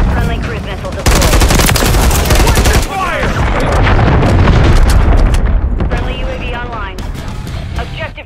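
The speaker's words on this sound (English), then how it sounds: "Friendly cruise missile deployed." Loud bursts of automatic gunfire and heavy booming explosions from a cruise missile strike in Call of Duty MW3 on the Das Haus map, rapid shots crackling over rumbling blasts while a game announcer voice talks.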